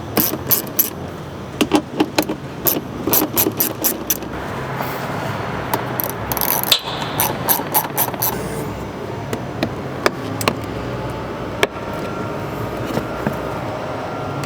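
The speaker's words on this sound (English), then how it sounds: "we're going to use a 10mm socket to remove 3 screws" Ratchet clicking on a 10mm socket while backing out mud flap screws on a 250-series Toyota Prado, with bursts of quick metallic clicks in runs between pauses and a steady background hum.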